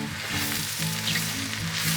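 Mushrooms hit a hot pan of onions for a Hungarian mushroom soup and set off a loud, continuous sizzle that stays close and steady for the whole moment, with no voices.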